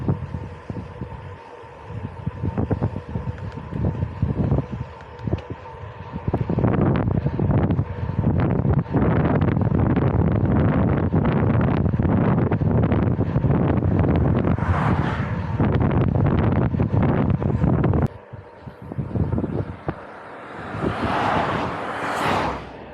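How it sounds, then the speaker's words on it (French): Strong crosswind buffets the microphone of a touring cyclist on a long road stage toward La Rochelle, a loud gusty roar that rises and falls, cuts out briefly near the end, then returns. "Le vent il est vraiment de côté."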